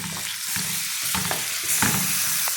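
Garlic ginger paste hitting hot oil in a pan, sizzling steadily up close while a spoon stirs and scrapes through it in short bursts, with no voices.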